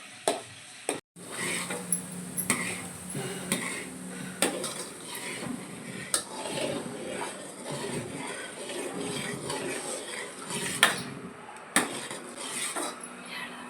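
Spoon stirring butter as it boils into ghee in a pot: scraping metal clinks and taps against the pan over a soft bubbling sizzle, close and fairly quiet.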